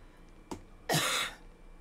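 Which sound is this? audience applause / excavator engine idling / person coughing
person coughing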